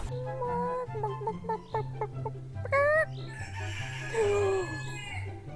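Several cockerels crow loudly in turn, one close and others farther off, over a steady low engine-like hum.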